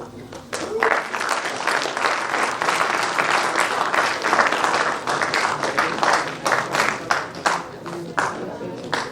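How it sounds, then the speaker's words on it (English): Conference attendees at the ICCSR 2021 Best Paper Award presentation break into loud, dense applause that carries on steadily, thinning toward the end, with a voice faintly audible beneath. "Huge round of applause."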